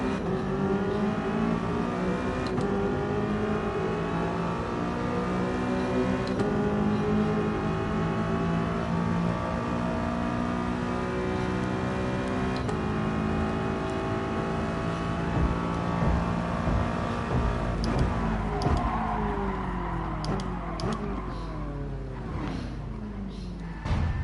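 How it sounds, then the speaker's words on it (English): Audi R8 engine in a PS4 racing game, a loud continuous exhaust note holding steady and shifting pitch through gear changes, with engine tone rising and falling for the whole stretch and no talk over it. "Got a good exhaust note, this R8."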